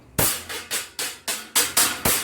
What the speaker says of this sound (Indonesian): Cymbal FX.